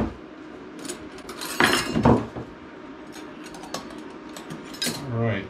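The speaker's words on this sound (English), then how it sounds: "down at the bottom of this box, we've got some silverware." Stainless steel silverware from Japan is rummaged in a cardboard box, giving scattered metallic clinks and rattles over a steady room hum, with a brief murmur near the end.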